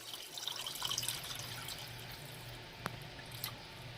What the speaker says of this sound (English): Now I'm going to add some water, just enough to cover my chicken.